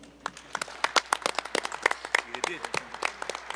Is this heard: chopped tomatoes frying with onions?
no